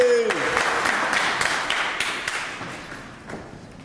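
Applause from a crowd at a United Way kickoff celebration for City of Savannah employees, loud at first with a short voiced cheer at the start, then gradually thinning and fading into scattered claps and taps.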